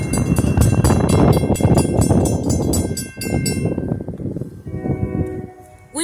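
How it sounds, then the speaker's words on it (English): A Nittany and Bald Eagle train with two engines rolls through Lock Haven after dark, a loud close rhythmic clatter of wheels over rail joints that thins out as the cars pass, ending with fainter metallic ringing. "We have a train coming for Lockhaven."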